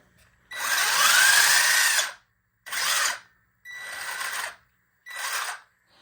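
A WLtoys 12428 RC truck's electric motor revs with its wheels lifted off the ground: four loud bursts of high whine, the first long and rising in pitch, the rest shorter, separated by brief silences.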